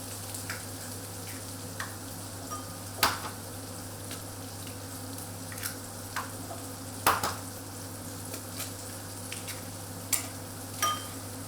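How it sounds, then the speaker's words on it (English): Onions sautéing in a pan for quiche Lorraine give a faint, steady sizzle over a low hum, broken by scattered soft crackles and a few louder pops and clinks. "all the onions have now been broken up and they're just going to sit and saute until they're ready"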